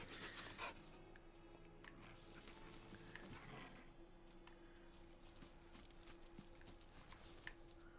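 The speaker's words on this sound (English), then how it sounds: "Good, he's a good doggy." A dog pants steadily and close by in the Final Fantasy 16 video game, with a faint whimper early on, over a constant low hum of in-game background ambience.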